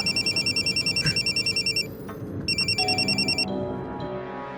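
An electronic phone ringtone trills in rapid repeating bursts, pauses, then rings again, loud and nearby with faint background noise.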